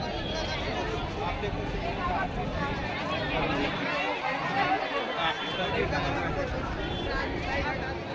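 A large crowd queuing for movie tickets at a Raipur mall cinema makes a dense, continuous babble of many overlapping voices, steady and fairly loud throughout, with no single speaker standing out.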